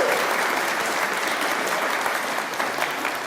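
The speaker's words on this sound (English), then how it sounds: "And does deserve a round of applause." Conference audience applauding a speaker at a spinal injuries event, a steady dense wash of many hands clapping throughout, loud and sustained with no talk.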